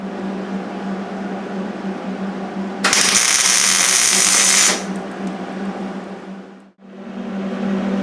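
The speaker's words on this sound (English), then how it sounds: "I'm going to get that quickly spot welded into" Spot welding a crack on a Triumph Spitfire bonnet, a loud hissing, crackling burst of about two seconds over a steady workshop hum, then a brief dip and the hum again.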